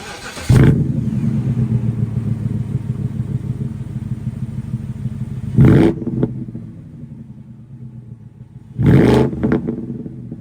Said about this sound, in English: I wanted to take this car straight out for a drive